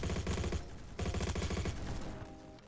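An AS Val rifle in the Roblox shooter Bad Business fires two rapid, loud, suppressed-sounding bursts of automatic shots with a brief gap between them, then fades into a quieter tail.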